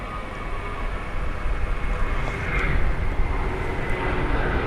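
An Air Seoul airliner roars on its takeoff run at Gimpo International Airport in Seoul, a broad, steady jet-engine rumble heard from a distance on an observation deck, swelling slightly as it goes.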